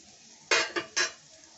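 Washed, drained flattened rice (chira) tipped into a pan for pulao, making a few quick close scrapes and clatters of utensil on metal within about a second.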